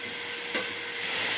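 Boiled bottle gourd goes into a hot pan with whole green chillies and starts to fry, giving a steady close sizzle with one brief scrape of stirring and no talking.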